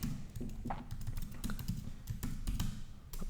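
Rapid typing on a computer keyboard while coding in Xcode, close and steady with clustered clicks and a few louder keystrokes, alone without speech.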